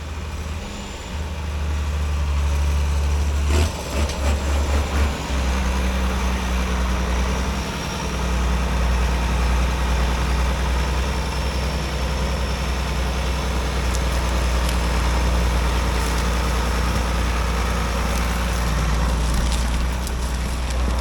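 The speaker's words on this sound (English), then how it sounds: "And here he comes with the grain cart." A tractor pulling a grain cart approaches across a harvest field, its heavy engine droning loud and steady throughout with a deep low rumble and occasional mechanical clatter.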